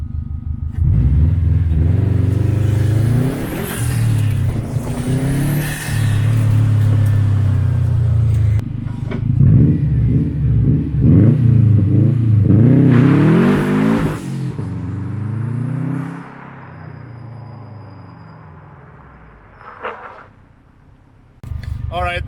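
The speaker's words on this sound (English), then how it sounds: "So let's try a first and second gear pull." Built Subaru GC8 RSTI on an empty road pulls hard through first and second gear, its loud, rising engine note climbing in a harmonic sweep, then a shift and another strong rise before the revs fall and it coasts down to near quiet.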